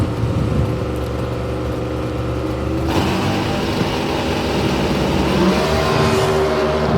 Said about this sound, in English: Big wheels up launch for the truck.